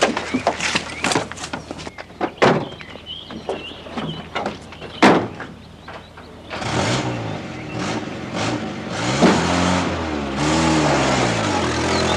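Doors clatter and thump shut several times, then a Land Rover engine starts and revs as the vehicle pulls away, growing steady and loud at close range, with no talking.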